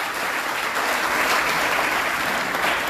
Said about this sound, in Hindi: जोरदार तालियां बजाइएगा